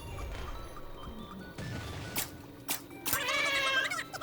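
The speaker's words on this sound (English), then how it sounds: "I don't need cats running in and out of here" A cat meows indoors in a home, a few short cries in the second half, fairly close and clear over faint room noise, with some thuds and clatter earlier.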